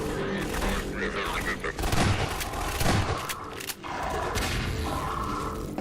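Dense gunfire in the video game Downfall, continuous overlapping shots and bursts with heavy thumps, loud and chaotic, with a voice talking underneath.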